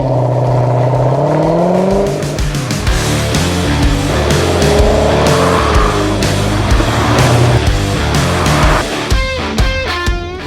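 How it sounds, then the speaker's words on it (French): A Corvette C6 with a 6.2-litre V8 of 440 horsepower revs hard and accelerates, its pitch climbing through gear shifts with a loud, close, throaty roar and brief whirs between pulls. "Voici la Corvette C6."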